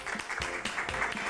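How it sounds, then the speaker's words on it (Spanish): A studio audience applauds a guest on a television interview show, a short, dense burst of clapping with a few louder claps standing out, steady throughout. "Y un aplauso para él."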